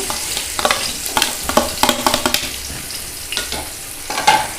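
Chopped onions tipped into hot oil already holding garam masala for mutton biryani and curry, giving a loud, steady sizzle broken by repeated scraping stirs, close up with no talk.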